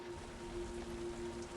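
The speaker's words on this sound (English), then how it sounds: "I was hoping the rain would have stopped by now" Steady rain falls on a rainy day, a soft continuous hiss with a faint tonal hum underneath and no speech.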